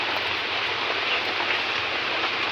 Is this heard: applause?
no